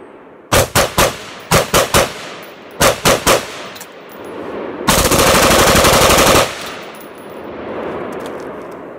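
A rifle caliber pistol fitted with a Noveske Flaming Pig flash hider fires loud, sharp shots, first in three quick volleys of two or three rounds each, then one sustained roaring burst of about a second and a half, alone with no talk.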